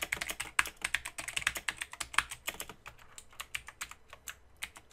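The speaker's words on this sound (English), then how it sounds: "Then I can just type my heading." Rapid typing on a computer keyboard, close and crisp, with quick bursts of key clicks that slow into sparser taps toward the end.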